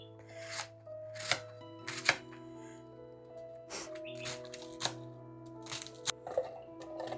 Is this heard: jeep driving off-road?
no